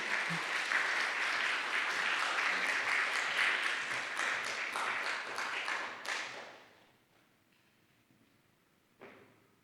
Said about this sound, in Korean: 여러분 박수로 환영할까요?